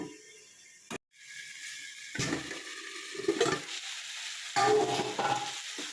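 Fish with cauliflower and potato frying in a pan, with bursts of sizzling and stirring separated by near-silent gaps, close and fairly quiet.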